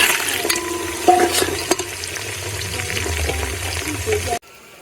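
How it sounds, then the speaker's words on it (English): Meat frying in a pot of hot oil with onions for a Togolese tomato stew, steady sizzling with stirring scrapes and clanks, cutting off abruptly near the end. "So we are going to fry our meat."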